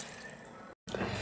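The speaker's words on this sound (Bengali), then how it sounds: "আমি এখন এই যে দেখেন পানি দিয়ে দিচ্ছি।" Water poured into a pot of fried rice for chicken biryani, a faint steady gush and splash with a brief gap of silence in the middle.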